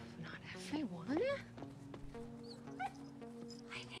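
A dog in the Stranger Things series whimpers and yips in a few short high pitched cries near the start, quiet and set under voices talking through the rest of the scene.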